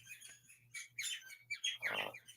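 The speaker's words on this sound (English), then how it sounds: "So my birds are getting loud." Several pet birds chirp and tweet in a home, bright repeated calls in short bursts rising to a louder cluster near the end, with a low steady hum underneath and no talking.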